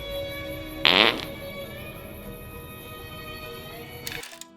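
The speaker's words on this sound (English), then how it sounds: "your courier will now experience random burps and, well, other less glamorous bodily sounds" Crude burp and fart bodily noises from a Fallout: New Vegas mod, heard as one loud, brief broadband burst near the start and a shorter one near the end, over a steady game ambience.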